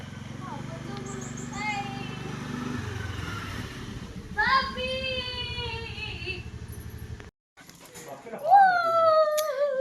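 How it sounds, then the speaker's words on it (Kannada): A pet dog greets its owners arriving home with high, excited whines and yelps in short bursts, close by, over a low rumbling background. "ಹೀಗೆ ನಮ್ಮ ನಾಯಿ ನಮ್ಮನ್ನು ವೆಲ್ಕಮ್ ಮಾಡ್ತಿದೆ"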